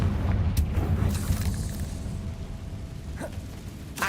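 A Confringo blasting spell goes off in the Hogwarts Legacy video game, a loud, booming explosion with a rushing whoosh that fades over a few seconds, then a couple of lighter bursts follow.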